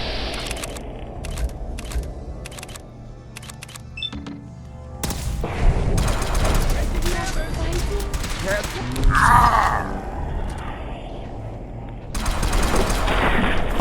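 Gunfire rings out in Fallout 4 as short, sharp clustered bursts and single shots mixed with clanks and game effects, loud and near, with a person talking over parts of it.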